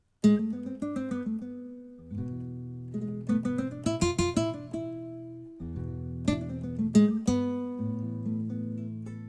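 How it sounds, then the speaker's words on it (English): A sampled nylon-string guitar plays a slow phrase of plucked notes and ringing chords, with faint string squeaks as the hand shifts between positions. "that's the sound of the strings squeaking as the fingers move up to change it"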